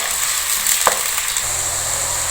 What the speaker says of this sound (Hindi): अब हमने इसमें ये प्याज ऐड करनी है। प्याज को थोड़ा सा सौते करना है।